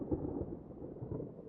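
Low, continuous rumbling thunder from an approaching storm rolls steadily with no breaks, sounding moderately near and dark, with no voices over it.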